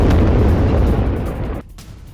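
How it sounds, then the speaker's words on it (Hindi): Heavy bombing of Isfahan, Iran, heard as a loud, sustained rumble of explosions filling the whole stretch before cutting off abruptly near the end, with no talk. "ईरान के इस्फहान शहर पर भारी बमबारी जारी है।"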